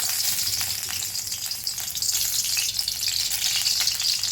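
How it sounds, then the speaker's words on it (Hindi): Oil poured into a hot kadai hisses and sizzles steadily and close, with a bright crackling fry throughout and a few soft clinks, no talk. "कढ़ाई गर्म हो चुकी है, अब हम इसमें तेल डालेंगे।"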